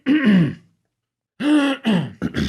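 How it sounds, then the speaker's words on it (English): Several voiced, throaty bursts of throat clearing from players at a Mothership tabletop RPG session, a couple close together, then a pause and a few more rough clears in quick succession, loud and near. "Now you can clear your throat."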